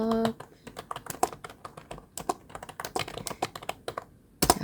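Typing on a computer keyboard while working on a PowerPoint slide: irregular bursts of close key clicks with short pauses between them, plus a louder key strike at the end.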